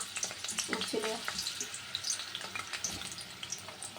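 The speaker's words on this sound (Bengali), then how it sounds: "তেলটা গরম হয়ে গেছে আলুটা ভেজে নিই" Potatoes sizzle and crackle steadily in hot oil, a close, continuous frying hiss with small pops and a faint clink of stirring.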